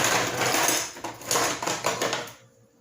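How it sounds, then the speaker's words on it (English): Ice cubes are dropped into a glass for a gin drink, a run of sharp clattering knocks and rattles close by, ending abruptly in quiet. "Going to throw some ice in here."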